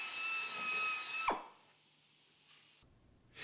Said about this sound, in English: Again, mount this brush in an electric or air drill.